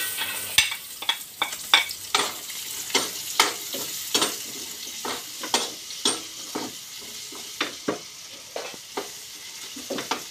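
Garlic and onion sauté in a pan for adobong puso ng saging, a soft steady sizzle broken by regular, sharp scraping strokes of a spatula stirring roughly twice a second.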